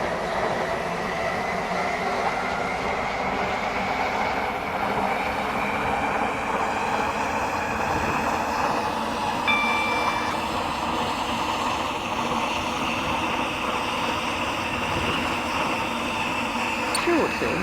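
Train running in the Roblox game Stepford County Railway on the Waterline route, a steady continuous rumble and hum of the moving carriages throughout, with a brief tone near the middle and no speech.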